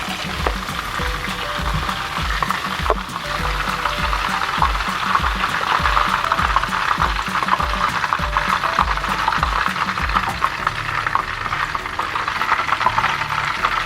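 Shrimp deep-frying in hot oil in a wok, a steady, dense crackling sizzle with rapid popping that continues evenly from start to finish, close and fairly loud, with no talking.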